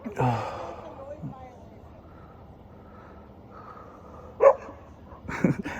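A couple of sharp dog barks ring out near the end over a low, steady background hum, with a faint voice early on.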